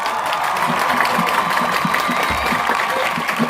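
A small crowd at a tumbler pigeon raffle and auction in Ankara gives a steady round of applause, even and continuous for several seconds, with faint voices mixed in.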